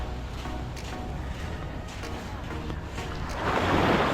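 Calm sea heard from a small fishing boat: soft wash of water and light wind buffeting, moderately quiet, swelling louder near the end.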